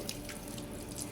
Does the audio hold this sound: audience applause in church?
no